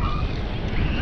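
Wind roars steadily against the microphone on the Ride to Happiness amusement park ride at Plopsaland, a constant loud rushing buffet with no talk.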